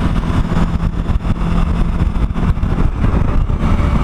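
A Suzuki V-Strom 1000 motorcycle engine runs steadily on a cold January ride, with a loud, constant low rumble that does not let up, together with wind noise and no voices.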